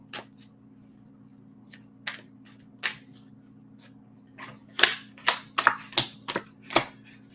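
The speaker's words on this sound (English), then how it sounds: "let's throw some cards down as well" Tarot cards shuffled and laid down by hand: scattered short crisp snaps and flicks, sparse at first then clustering into a quicker run of sharp card slaps, close and dry over a low steady hum.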